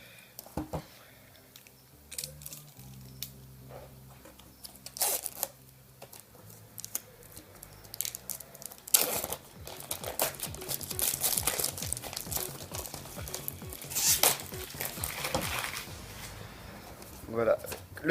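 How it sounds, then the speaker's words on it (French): A cardboard Bakugan box is opened, with close crinkling, tearing and crunching of packaging in irregular bursts, louder in the second half, while a person talks intermittently. "j'ai été chercher quelque chose pour pouvoir ouvrir la boîte"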